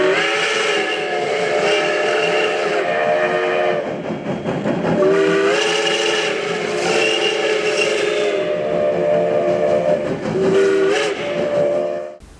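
A passing train near Vadarci sounds a loud, sustained whistle whose tones waver and hold over a steady rolling rumble, continuing almost unbroken throughout.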